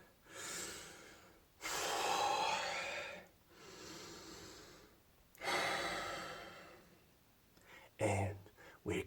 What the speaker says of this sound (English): I'm gonna take a couple breaths.